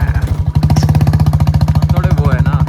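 A Royal Enfield Bullet motorcycle engine thumps steadily at idle after a kick start, loud and close, with a fast regular pulse throughout while a person speaks over it near the end.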